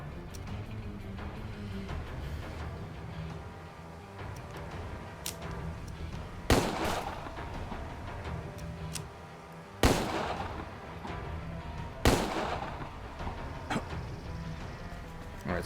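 Gunfire in the Empire of Sin strategy game on Nintendo Switch: three sharp, booming shots spaced a few seconds apart over a low background hum, with a few fainter pops between them.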